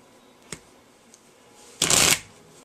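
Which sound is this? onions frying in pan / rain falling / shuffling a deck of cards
shuffling a deck of cards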